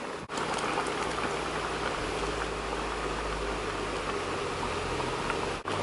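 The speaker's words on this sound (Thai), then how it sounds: "ตอนนี้ก็เดือด ได้ที่แต่ว่ารอหมูเปื่อยอีกนิดนึง" A pot of Japanese curry with pork at a rolling boil, a constant bubbling, hissing roar close by, steady throughout with short dips near the start and end, no voices.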